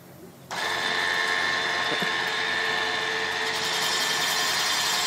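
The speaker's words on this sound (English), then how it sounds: "The hone is a 4-stone hone, and it's precision hone." Engine cylinder honing machine with a 4-stone precision hone working a small block Chevy V8 bore. It starts abruptly and holds a loud, steady mechanical whine with a strong grinding buzz, close and continuous.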